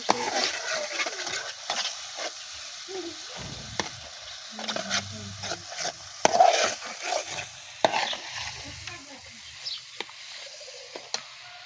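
Small kona fish drop into a hot cooking pan for a curry, setting off a soft crackling sizzle with light scraping stirs and occasional clinks of utensil against pan, close and fairly quiet.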